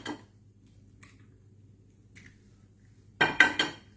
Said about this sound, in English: Crack a couple of eggs in there.